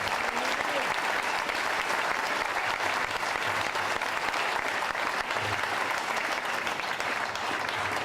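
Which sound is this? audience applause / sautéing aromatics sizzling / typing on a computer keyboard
audience applause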